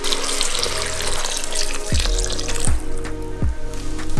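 Two cups of water pour from a tap or vessel into a pot of quinoa khichdi, a steady splashing stream with several gurgling surges as the level rises, close and fairly loud with no talk.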